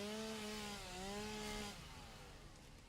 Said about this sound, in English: And then I need to chainsaw something here.